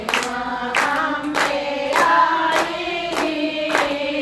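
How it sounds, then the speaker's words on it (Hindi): Hands clap in a steady, even rhythm along with a Hindi devotional bhajan, about two claps per second, close and fairly loud over a sung melody. "दोनों हाथ बजाओ ताली"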